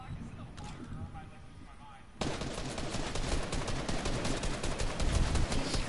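Video game gunfire that bursts in suddenly after a quiet moment, a rapid, continuous machine-gun stream of shots, fairly close and filling the rest of the stretch.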